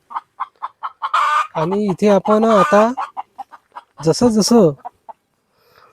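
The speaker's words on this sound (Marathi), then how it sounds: "प्युअर गावठी कोंबड्या आहे मित्रांनो" Free-range desi village chickens cluck in short repeated bursts close by in a backyard coop, with someone talking over parts of it.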